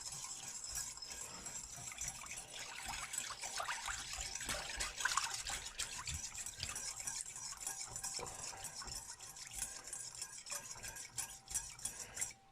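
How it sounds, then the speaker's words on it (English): A whisk stirring sugar into a sauce mixture in a bowl, producing a quiet, steady wet swishing with light rhythmic scraping and small clinks. "I'm gonna put it in, and I'm gonna whisk this together."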